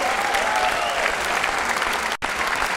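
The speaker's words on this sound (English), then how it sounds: "And the CCI crowd comes alive again" Squash crowd at the CCI International final bursting into sustained applause after a rally-winning shot, dense clapping and cheering throughout with one brief cut near the end.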